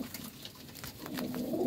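Pigeons coo nearby in soft, low, throaty phrases that repeat and swell slightly toward the end, with no voices over them.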